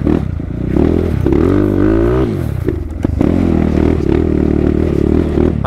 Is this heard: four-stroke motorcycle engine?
yes